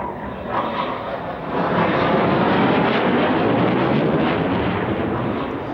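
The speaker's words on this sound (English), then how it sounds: "here are 4 of the Phantoms of 56 Squadron breaking from Echelon Port" Four RAF Phantom jets of 56 Squadron break from echelon port at a 1990 Battle of Britain anniversary air show, a loud roaring jet rumble that swells after the first second and holds steady.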